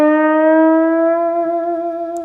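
A single sustained electric guitar note is bent upward and held with a gentle wavering vibrato in a solo, ringing clear and fairly loud for about two seconds with no talking.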